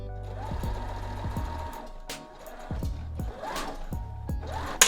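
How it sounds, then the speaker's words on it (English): A sewing machine stitches darts into thrifted fabric, running in several close bursts of steady motor whir and needle thump separated by short pauses. "Let me just sew these darts in. All right, stitch in the ditch, here we come."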